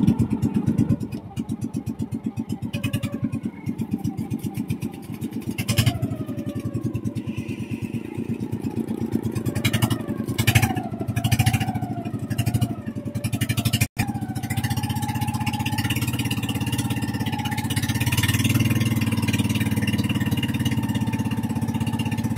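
Four motorcycles loaded for a crossing idle and rev, their engines making a continuous close rumble with occasional throttle blips and clatter, no talking.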